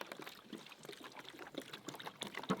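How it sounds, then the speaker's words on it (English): Water is poured onto hot metal that has just caught a .50 BMG round, making a faint, uneven trickle and splash with small sizzling bursts, alone and fairly quiet. "Let's pour a little bit of water on it."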